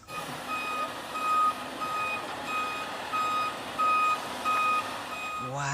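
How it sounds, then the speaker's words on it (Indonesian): A toy tow truck gives out evenly spaced electronic reversing beeps, steady and moderately loud against a faint background, with a voice rising briefly at the very end. "ini truk derek."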